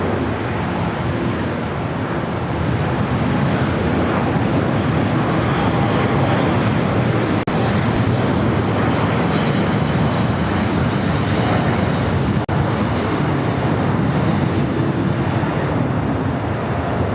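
An airliner rolls down runway 25 right at LAX, a steady, loud broadband roar of engines and rushing air that holds evenly throughout with no speech.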